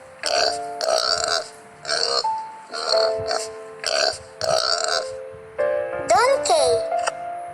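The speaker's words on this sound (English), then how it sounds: "The pig sounds called grunt." Pig grunts come in a run of about eight short, evenly spaced bursts, each a loud, close, throaty snort, with the last few rising into squealing glides.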